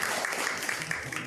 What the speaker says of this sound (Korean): 여러분 환영의 박수 부탁드리겠습니다.